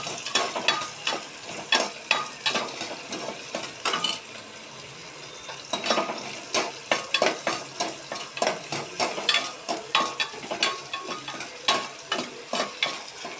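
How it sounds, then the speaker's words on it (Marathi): Chopped onion sautéed in a pan until reddish-brown for hotel-style khichdi, a close sizzle under repeated rhythmic spoon scrapes and clinks against the pan, steady and fairly loud with no talk. "आपण कांदा टाकलेला आहे कांदा लाल होईपर्यंत परतून घ्यायचा"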